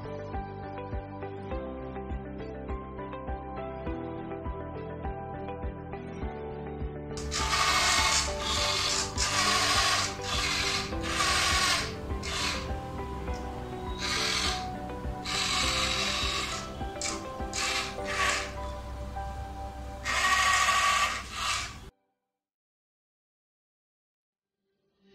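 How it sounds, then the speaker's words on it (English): A small DC gear motor drives a self-balancing platform, whirring and grinding in short bursts of varying length over a steady background hum, then it stops. "That's why we use a DC gear motor."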